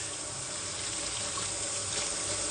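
Tap water runs steadily into a kitchen sink while dishes are washed, a continuous close hiss and splash with no pauses.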